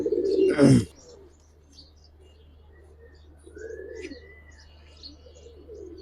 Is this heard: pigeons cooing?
yes